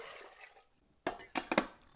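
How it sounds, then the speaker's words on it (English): Water splashes into a pot of drained, soaked toor dal in a home kitchen, a few short close bursts of pouring after a quiet pause. "Add 3 cups of water."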